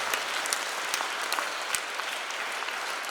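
Sustained applause from a church congregation at Mass, a thick continuous clatter of many hands with a few sharper claps standing out.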